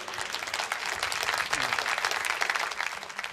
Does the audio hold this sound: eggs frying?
no